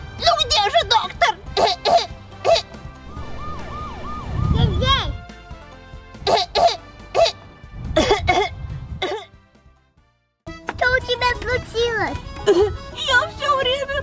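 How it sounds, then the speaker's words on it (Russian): A child character coughs and clears her throat in a kids' doctor game with cartoon voices, the coughs heard among lively character speech and background music, with a short pause near the end. "Я все время кашляю."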